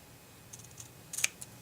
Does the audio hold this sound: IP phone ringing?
no